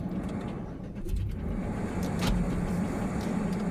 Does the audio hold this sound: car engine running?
yes